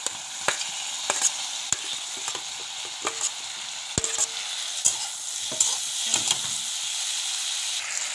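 Cumin, coriander, red chilli and garam masala dry-roasting in a pan, stirred with repeated sharp scrapes and taps over a low hiss, close up, no speech.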